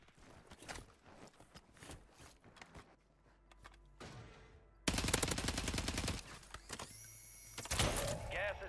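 Gunfire in a Rebirth Island video game match, with rapid bursts of automatic fire breaking out loudly after quieter stretches of clicks and mechanical noise, while players talk faintly in between.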